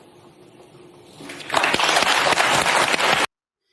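An audience bursts into loud, dense clapping after a quieter stretch of low murmur, the applause sustained for under two seconds before cutting off abruptly.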